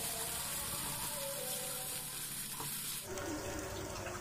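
Boiled potatoes seasoned with black pepper and salt are stirred and sautéed in a pan, giving a low, steady sizzle that shifts and thickens partway through as the mix is turned, with no talking.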